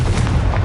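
A fire spell blast cast in a fantasy video game lands as a short, loud booming burst with a heavy low rumble, filling the whole brief moment without any voice over it.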